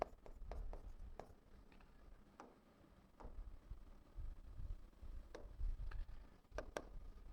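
Chalk or marker tapping and scratching on a classroom board while a set is written out, scattered sharp taps and short strokes, faint and close against low room noise.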